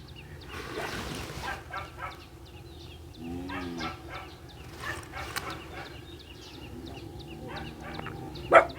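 Two black Pomeranian dogs barking and yipping in short irregular bursts, heard at moderate distance against a background of outdoor noise and occasional voices.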